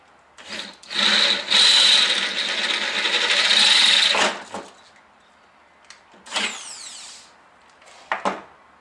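A big drill bit boring a single hole in a shed, a loud steady whine for about three seconds, followed by a few shorter bursts as the drill is run again in brief pulses.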